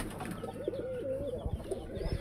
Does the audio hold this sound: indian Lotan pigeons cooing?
yes